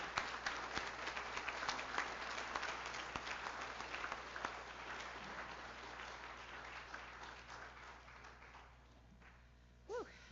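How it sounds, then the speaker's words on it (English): A graduation audience applauds paramedic program instructors, a sustained crowd of clapping that slowly thins and fades toward the end, with a brief sound cutting in at the close. "give you a much deserved round of applause for your dedication to our"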